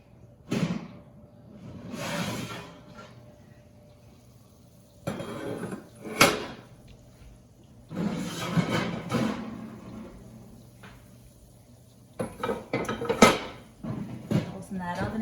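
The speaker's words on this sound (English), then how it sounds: "Closing that oven again" An oven door being opened and shut while baking cheese breadsticks, heard as a few sharp clunks and thuds among kitchen clatter of pans, with a person talking at times.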